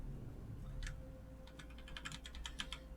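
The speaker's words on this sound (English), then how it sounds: "so I actually am using mouse and keyboard" Rapid keyboard typing with mouse clicks during play of the roguelike game The Book of Aaru; quick clustered taps, sparse at first and then a steady close-up patter over a low hum, with no voice.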